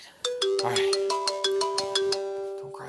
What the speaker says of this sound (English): Sylvia, you're calling me. You're going to make me listen to it